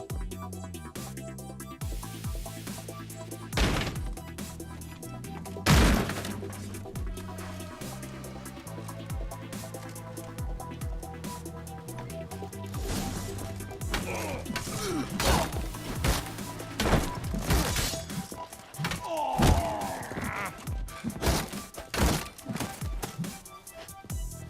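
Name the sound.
explosion and fight in video game The Witcher 3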